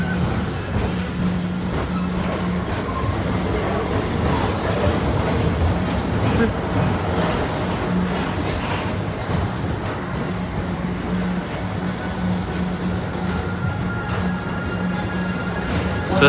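An amusement park people mover ride train rumbles and rattles steadily along its track, a continuous close-up clatter with a low hum and faint voices.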